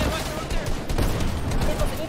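Assault rifle fire in the competitive video game Fortnite: continuous rapid gunfire and game noise, with a player's voice talking over the shooting.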